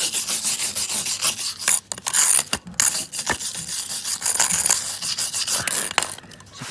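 Rough, continuous rasping as an outdoor concrete fountain's surface is scraped clean, a steady gritty texture with a few brief pauses, close and fairly loud against light wind.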